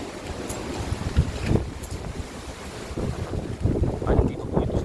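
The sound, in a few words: water sound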